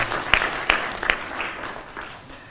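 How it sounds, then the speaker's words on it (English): Audience applause at a National Police Service partners roundtable in Kenya: a brief spell of clapping with a few sharp, close claps standing out, tapering away quickly. "Let's give Honorable Tongoyo a bigger round of applause"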